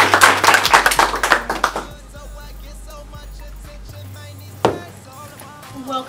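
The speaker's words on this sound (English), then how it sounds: "Everybody clap it up for Miss Genesis." Audience clapping to welcome a young woman named Genesis onto a stage: a burst of many hands for about two seconds, then a quiet stretch with a few scattered claps and one sharp louder clap near the end.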